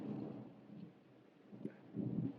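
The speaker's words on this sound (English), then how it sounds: "it's really thundering here" Thunder rumbling during a thunderstorm, a faint, distant low roll that swells and fades, with a second swell near the end, heard alone without talk.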